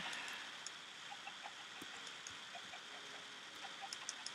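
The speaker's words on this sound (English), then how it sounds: "That was chicken." Chickens in a video game give faint, scattered clucks, short soft blips spread over a few seconds against a quiet hiss.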